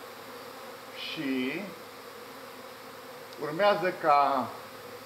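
A secondary honey bee swarm with a single queen buzzes in a steady low drone throughout, while people talk briefly over it.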